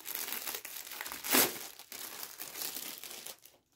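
Close, crisp crinkling of thin paper being handled and unfolded, with one sharper rustling burst partway through, no talking.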